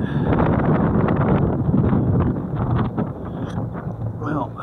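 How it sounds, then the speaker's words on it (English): Wind gusting outdoors beside a boat mooring, a loud rough buffeting roar across the microphone that eases slightly toward the end, with a brief voice near the close. "Yeah, I see the wind's come up already."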